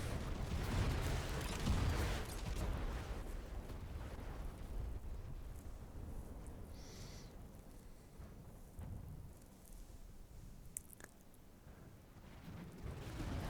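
Missile explosions in a space battle video game come through as a faint, low, continuous rumbling with soft swells and crackle, distant and subdued throughout.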